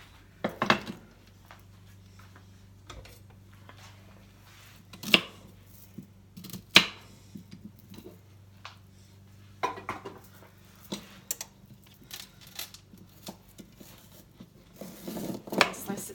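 A knife slicing through a celery stalk on a cutting board in a home kitchen, with a few sparse, faint clicks and taps spread out over quiet background.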